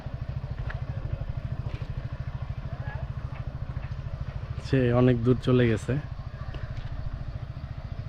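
A motorcycle ridden by a learner, its engine running at a steady low throb throughout, close by under a man's spoken instructions.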